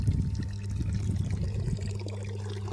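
Thick pendimethalin herbicide liquid is poured into a measure for a 20-litre sprayer pump, making a soft, continuous close-up trickle over a low background hum.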